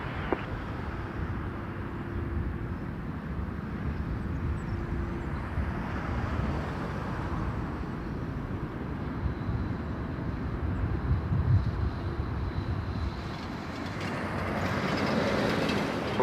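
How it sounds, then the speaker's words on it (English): An Air Canada Express airplane landing at Toronto Pearson produces a broad, steady jet rumble and roar that gradually swells louder toward the end, with no talking. "Air Canada landing"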